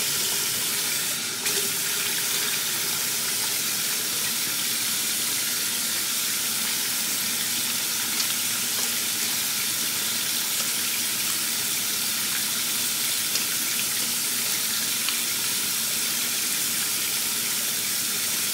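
A tap runs steadily into a sink while hands are washed with an exfoliating hand soap, a continuous close water rush lasting the whole stretch with no talk.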